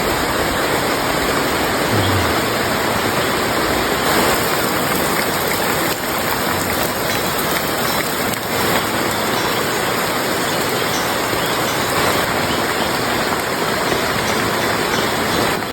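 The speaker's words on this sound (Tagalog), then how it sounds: "malakas na ulan." Heavy rain pours steadily through the night around a tree house, a dense, unbroken hiss that stays loud and even throughout with no voices.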